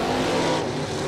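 Drag racing door cars launch at the start line, a loud, dense engine roar with strong harmonic tones that holds steady then shifts slightly midway through, with no voices present.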